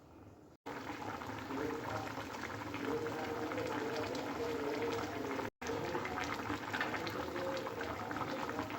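Hilsa fish curry with green banana simmering in a pot on a gas stove, giving a steady, soft bubbling hiss broken by two brief dropouts.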